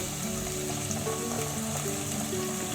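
Spice paste for Bengali dudh shukto fries in a pan with a steady, even sizzle, close by and fairly soft, continuing without pause.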